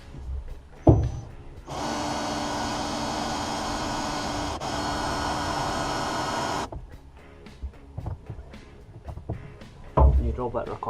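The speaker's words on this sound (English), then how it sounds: "I'm just going to grab some WD-40 for drilling this" A drill bores through the thin metal body panel of a Ford Fiesta, a steady loud whine lasting about five seconds, followed by scattered clanks and handling noises nearby.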